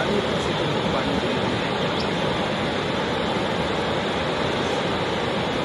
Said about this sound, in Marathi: त्यामुळे भोर नदीला महापूर आलेला आहे.